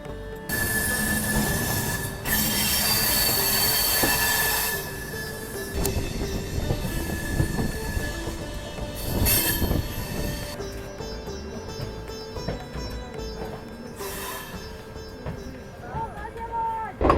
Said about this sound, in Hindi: ट्रेन हमारी खड़ी है और राजधानी जो है वो निकलते हुए जा रही है